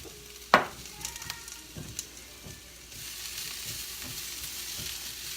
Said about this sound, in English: And we're gonna let those saute.